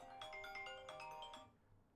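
A faint electronic melody of stacked tones plays in a quick repeating pattern, then cuts off abruptly, like a phone ringing quietly in the background.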